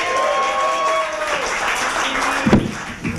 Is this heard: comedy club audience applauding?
yes